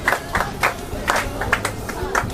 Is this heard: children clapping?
yes